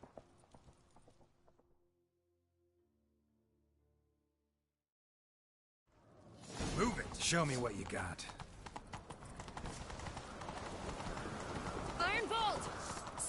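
Horse hooves pound at a gallop in The Witcher 3, a steady rapid clatter that kicks in loudly after a quiet stretch and runs on under shouted voices and game music.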